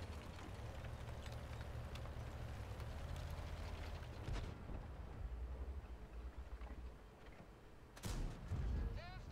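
A tank gun fires in the World of Tanks game, a sharp heavy blast near the end standing out over steady engine rumble and earlier muffled gunfire, with a voice talking over it.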